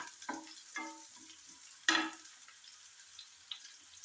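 Green chillies hit hot oil in a pan for a cutlet recipe, giving a few short, separate sizzling bursts, one louder than the rest, over an otherwise quiet background.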